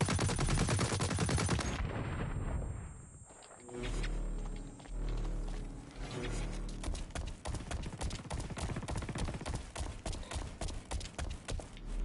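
Mini machine gun in a video game, rattling out rapid bursts of close, loud shots that settle into a fast rhythmic stream after a brief lull, with heavy rumbling game sounds underneath.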